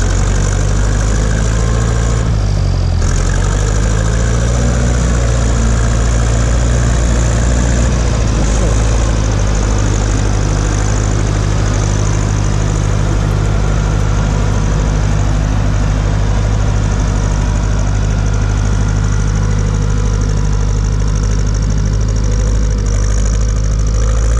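A tractor engine with a somewhat worn motor runs in a field, idling in a loud, steady, low drone that continues without a break and with no talk over it.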